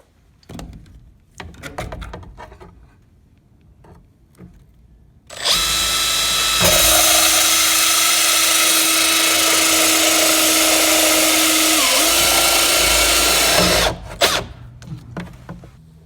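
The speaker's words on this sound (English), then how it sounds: "going to be using these Milwaukee thin wall hole saws" A Milwaukee thin wall hole saw run in a drill cuts steadily for about eight seconds, a loud sustained whine with a slight pitch dip near the end, framed by quieter handling clicks and knocks before and after.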